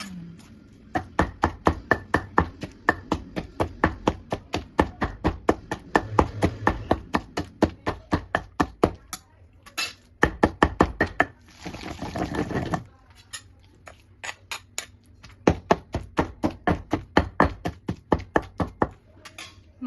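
Telugu mixed rōti pachadi chutney pounded coarsely in a stone mortar: a long run of steady, rapid thuds and grinding knocks, close and clear, with brief pauses and a short scraping stretch midway.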